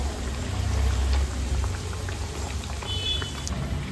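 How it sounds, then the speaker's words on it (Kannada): Badam puri frying in hot oil until golden, a steady dense bubbling sizzle that holds evenly throughout, close and unbroken with no talking. "ಈ ರೀತಿಯಲ್ಲಿ ಹೊಂಬಣ್ಣ ಬರುವ ಹಾಗೆ ಫ್ರೈ ಮಾಡಿಕೊಂಡು ಪಾಕಕ್ಕೆ ಸೇರಿಸ್ಕೊಳ್ಳೋಣ"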